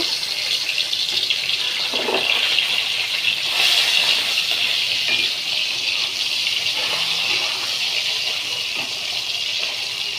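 Tangra fish fry in hot oil with dried chilli, producing a loud, steady, hissing sizzle that fills the whole clip at close range, with no talking.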